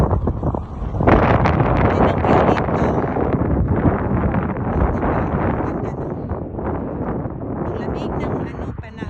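Steady wind buffeting a microphone, loud and continuous throughout with a low roaring rumble.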